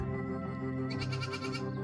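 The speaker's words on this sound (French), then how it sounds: "vous avez oublié une chèvre" A goat bleats during a round-the-world van trip, one long wavering cry heard up close with a steady hum in the background.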